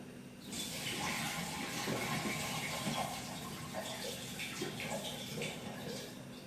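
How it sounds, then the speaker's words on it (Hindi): Water pours out of a pot of soaked rice as it is drained in a home kitchen, a steady splashing gush that runs without a break for several seconds. "अब मैं यहाँ इनका पानी निकाल रही हूँ।"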